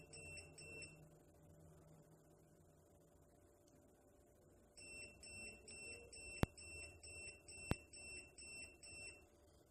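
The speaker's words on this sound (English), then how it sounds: "You'll also hear your printer beep." Receipt printer of a card payment terminal powering up, giving faint repeated high electronic beeps in short clustered bursts over a low mechanical hum, with two sharp clicks among them.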